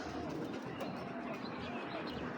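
Pigeons from a loft of racing birds give soft, low cooing close by over a steady murmur of background noise, with no talk.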